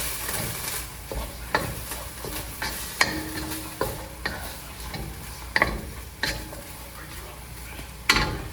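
Food sizzles steadily in a pan while a spoon stirs it, scraping and tapping against the pan in irregular strokes, close and moderate in volume.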